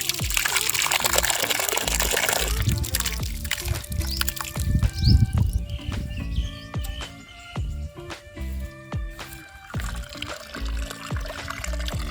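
Seedless lemon juice poured while making a paneer jamun sweet: a short liquid splash and trickle at the start, followed by scattered kitchen clatters and knocks.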